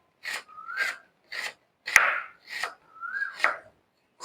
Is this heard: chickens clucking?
no